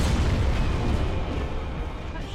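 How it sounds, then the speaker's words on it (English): Repeated explosions burst on enemy hits during Dark Souls Remastered combat, a loud continuous booming wash with dense low rumble throughout. "He's got an explosion on almost every hit."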